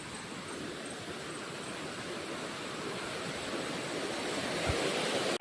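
Flowing water rushes in a faint, continuous, even wash of noise near a tribal village with teak trees, steady throughout and slightly building toward the end, with no talking.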